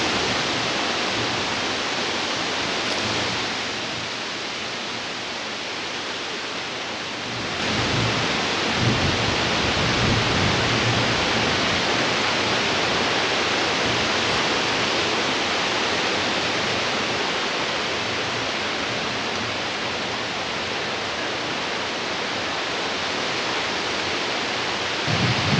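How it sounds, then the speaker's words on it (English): Wind howls through a riverside campsite at Eagle Creek on Montana's Missouri River as a loud, continuous roar of broadband gusts that rise and fall slightly and carry no voices. "The wind is howling at times."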